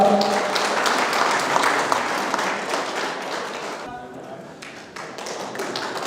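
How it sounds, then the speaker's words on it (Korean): Applause from the audience at a donation ceremony during a Korea–Malaysia contemporary art exchange exhibition, dense clapping that holds steady for about four seconds, thins briefly, then carries on with a mix of taps and murmuring. "큰 박수 부탁드립니다."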